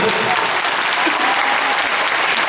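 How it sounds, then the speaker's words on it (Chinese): A concert audience applauds a music teacher at a memorial concert, a dense, steady burst of clapping from a crowd in a hall lasting the whole moment, with a voice faintly present beneath. "给老师一个热情的掌声。"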